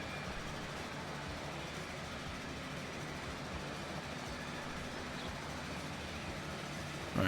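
A Deco-styled locomotive in the Transport Fever game rumbles along steadily, a continuous even train roar with no breaks and no talk.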